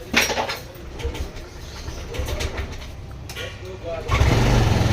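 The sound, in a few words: Yamaha NMAX 155 v2 scooter engine running at high idle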